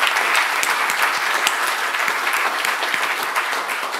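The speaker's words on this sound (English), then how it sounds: "Applause." Sustained applause from a conference audience, dense steady clapping filling the whole stretch at even loudness with no talk over it.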